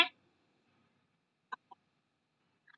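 A chicken gives a few short, sharp clucks in quick succession against near silence, brief and moderately close, with a single faint cluck at the end.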